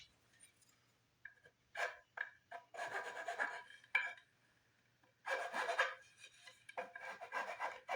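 Short bursts of rasping and rubbing on the wooden tenon of a 1969 Gibson SG guitar neck as its edge is eased, close and fairly quiet, with pauses between strokes.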